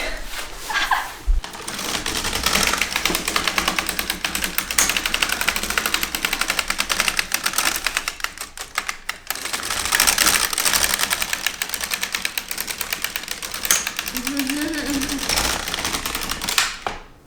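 A knitting machine knits stitches for a cardigan, its carriage giving a steady, dense mechanical clatter and rattle that runs almost without pause, close up and fairly loud, with a brief lull midway.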